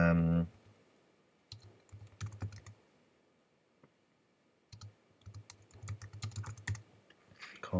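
Close clicking on a computer keyboard in two separate runs of uneven, rapid keystrokes, broken by a quiet pause, with a brief bit of voice at the very start.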